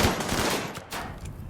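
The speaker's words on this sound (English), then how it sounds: "They're sure using a lot of bullets to take it down." Rapid automatic gunfire in RimWorld as colonists pour bullets into a turret, a dense continuous rattle of shots with a few brief gaps, fairly distant and moderately loud.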